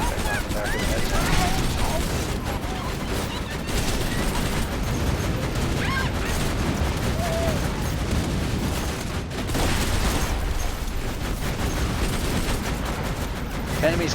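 Continuous Borderlands 2 gunfire fills the scene, a dense barrage of rapid shots and blasts with scattered small effect chirps layered on top, loud and unbroken throughout.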